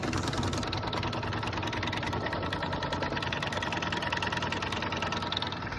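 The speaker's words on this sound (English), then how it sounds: "right now it is stitching the quilting motif" An embroidery machine stitches a quilting motif on a mini wall hanging, a steady, close mechanical hum with a fast, even stitching pulse that runs without a break.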